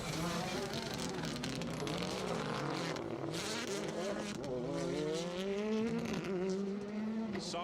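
A rally car is driven sideways through a stage at the Protyre Circuit Rally Championship. Its engine snarls and rises through the gears, with tyre scrub and revving, loud and close, under faint commentary.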